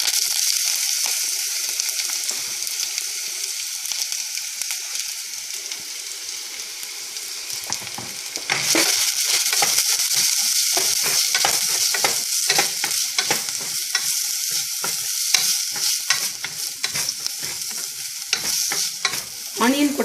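Onions, with green chilli and a small broken piece of cinnamon stick, frying in a pan for Bombay chutney, sizzling steadily while a spoon scrapes and stirs in quick, clattering strokes that grow busier partway through.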